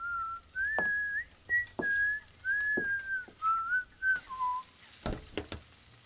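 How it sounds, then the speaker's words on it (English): A person whistles a bright, wavering tune in short phrases, fairly close, with a few soft clatters and knocks in the background. "she promptly distracts him by starting to whistle"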